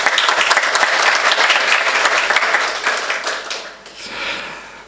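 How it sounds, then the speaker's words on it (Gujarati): An audience at a district branch conference of a blind people's association breaks into loud, sustained applause. The clapping fades and then swells briefly near the end. "તો બંને મહાનુભાવો માટે તાળીઓ થઈ જાય."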